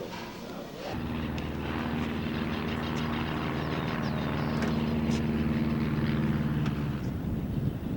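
A Cessna 340 twin-engine propeller airplane gives a loud, steady, droning engine hum with a strong tonal buzz that sets in after a second and holds throughout. Faint voices may sit under it.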